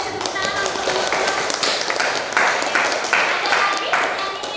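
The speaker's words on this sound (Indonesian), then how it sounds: "Kasih tepuk tangan untuk teman-teman" A school classroom in Indonesia breaks into applause for presenting classmates: a few seconds of uneven, fairly close clapping in rising and falling bursts.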